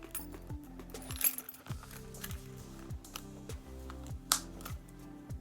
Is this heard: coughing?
no